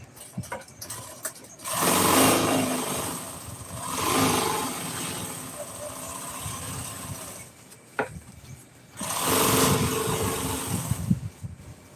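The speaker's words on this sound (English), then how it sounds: "Let's just sew around it real quick." A sewing machine stitches around a piece of upholstery for a 1997 Ford F-350 truck seat. It runs in three bursts of steady mechanical whirring, each a second or more long, separated by quieter pauses.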